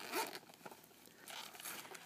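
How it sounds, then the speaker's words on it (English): A patent leather-like zip case is unzipped in a few short, quiet zipper strokes, heard close up with no talking. "Comes in a patent leather-like case that zips, and when you unzip it,"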